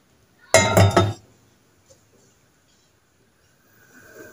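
A pot set down on the stove in preparation for boiling sugar into homemade lollipops, a single close metallic clunk and clink followed by near silence and faint low rustling.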